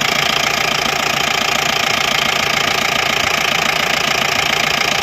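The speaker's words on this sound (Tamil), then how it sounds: "இன்ஜின் நாய்ஸை பார்த்துக்கோங்க." Diesel engine of a 2017 Mahindra pickup idling, a steady loud knocking rumble with a fast even beat and no voices over it.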